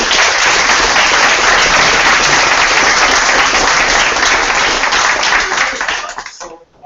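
Loud, full applause from an audience thanking a speaker at a business talk, a dense sustained roar of clapping for about six seconds that then quickly tapers away.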